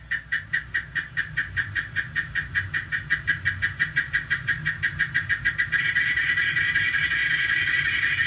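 Cicada song played back through a class AB amplifier, a loud, fast pulsing buzz with rapid regular beats that merge into a steady continuous drone near the end, with no talking.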